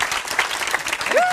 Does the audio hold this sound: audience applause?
yes